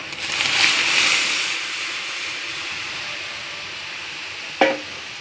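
Garlic fries in oil with dried red chili. A broad hissing sizzle starts loudest, then settles into a steadier, softer frying hiss, with one sharp utensil click near the end and no talking.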